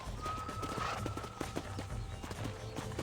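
A horse in the Red Dead Redemption video game runs with steady, rapid clip-clopping hoofbeats that stay close and continuous, and a whinny rises over them.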